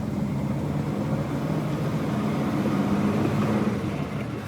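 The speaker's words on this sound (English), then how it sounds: "First thing you'll notice is there's a lot of noise, and most of it's the transmission bearings." Interior of a moving Volvo 164 car with noisy transmission bearings, a steady low droning engine and drivetrain hum with a constant whine, continuous and fairly loud, with no talking.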